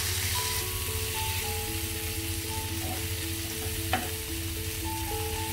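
Tandoori pomfret fish frying in a pan, a steady soft sizzle heard close and quiet throughout, with a faint clink near the middle and no talking.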